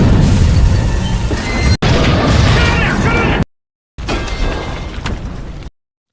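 An explosion in a hacker action film bursts out as loud, crashing roars with debris-like clatter, broken by sudden cuts and a short gap of silence before another crashing stretch.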